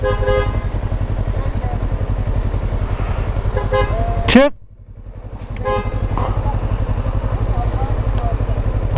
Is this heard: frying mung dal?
no